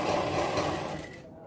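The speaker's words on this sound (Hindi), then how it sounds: "हमें बराबर सीधा सिलाई लगाना है कलर में" Sewing machine stitching the collar of a baby girl's kurti, a steady close mechanical whirr of rapid needle strokes for about a second before it winds down and stops.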